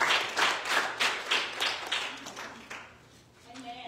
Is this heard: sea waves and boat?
no